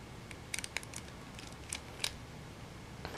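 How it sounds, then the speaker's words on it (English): Small black screws being unscrewed from an RCA Small Wonder camcorder during a teardown: a few faint, close, scattered ticks and clicks over quiet background, with no talking. "I'm gonna go ahead and unscrew these two black screws"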